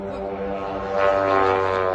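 A small propeller engine drones steadily, then its pitch and loudness climb as it revs up to full power.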